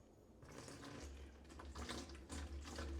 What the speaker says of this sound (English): One gallon of hot tap water.